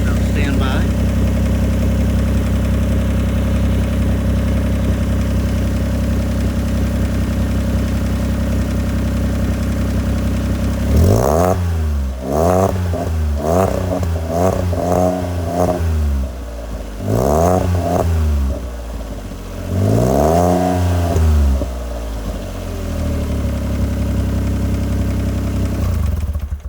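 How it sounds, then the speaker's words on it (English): Modified Smart Car 451 engine with a performance header and exhaust, idling steadily and then blipped through several sharp, loud revs that rise and fall in quick bursts before settling back to idle, close by and loud. "put the camera down and rev it up a little bit for you"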